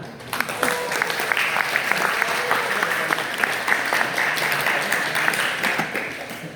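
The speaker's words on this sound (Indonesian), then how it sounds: "Tepuk tangan lah." Audience applause at an Indonesian book discussion event, steady dense clapping from a room of people sustained throughout without pause.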